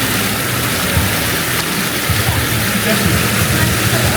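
Steady, loud rushing of fast-flowing water fills the whole stretch as an even broadband roar, with no clear voices above it.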